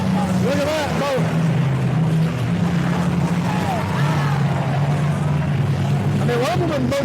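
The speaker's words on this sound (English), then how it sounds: "Look at that boat." A motorboat in a boat race roars past on open water, its loud, steady engine drone filling the whole stretch with a slowly shifting pitch, while people talk excitedly over it.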